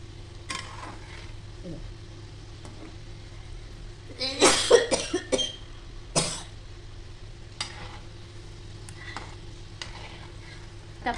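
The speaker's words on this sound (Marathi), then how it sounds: "असे थोडे थोडे करून तळून घेऊ आपण" Shankarpali dough pieces fry in hot oil, with a faint bubbling sizzle under a low hum, broken by a cluster of clattering stirring sounds and a cough-like burst.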